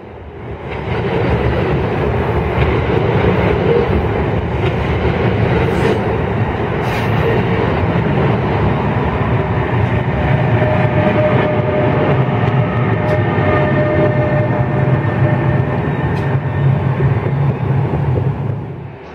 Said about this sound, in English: It's approaching Woodbridge train station